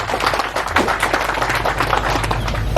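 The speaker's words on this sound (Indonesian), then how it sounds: "Tepuk tangan dulu untuk Kecamat." Crowd applause for the newly sworn-in sub-district head (camat) of Weda, Central Halmahera, at an official inauguration ceremony: a dense, steady patter of many hands clapping throughout, fairly loud and close.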